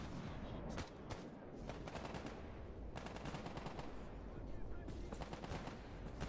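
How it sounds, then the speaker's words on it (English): Freedom and Duty factions trade rapid automatic gunfire in S.T.A.L.K.E.R. GAMMA, with repeated sharp bursts and scattered single shots cracking over a dense, rumbling battle din throughout. "Oh, it's just freedom and duty shooting."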